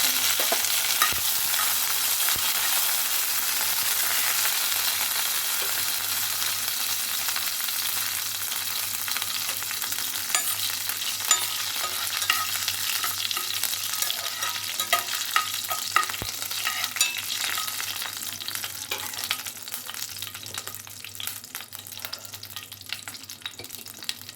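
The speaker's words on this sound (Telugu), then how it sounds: "బాగా ఫ్రై అవ్వాలి கொஞ்சம் கருவேப்பிலை" Brinjal frying in a tempering of urad dal and curry leaves, a steady close sizzle of hot oil with intermittent stirring scrapes over the pan, continuous throughout with no talk.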